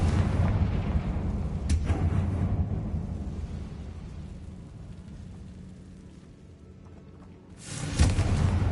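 Confringo fire spell explosion in the video game Hogwarts Legacy, a deep booming blast that rumbles and fades, followed by a second burst near the end, loud and close.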